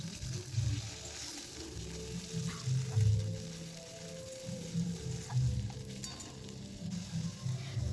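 Garlic and onion paste with green chilies fry in a pan for a cabbage kofta curry, producing a low, bubbling sizzle that swells and eases with occasional stirring, with no one speaking.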